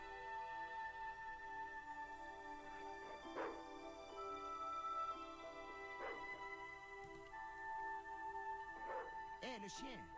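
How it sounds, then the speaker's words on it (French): A dog barks and yips several times in the point-and-click video game Broken Sword 2, short spaced calls over steady game music and background hum. "Hé, le chien!"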